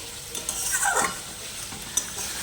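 Potatoes and eggplant sauté in a pan, soft sizzling with a spatula stirring and scraping through the pieces, a brief clink near the end, fairly quiet and close.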